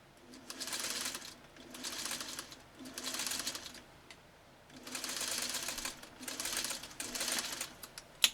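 A 1952 Singer 301 sewing machine stitches thick, compressed woven fabric in six separate bursts of rapid, even clatter, each a second or so long with brief pauses between, close and clear.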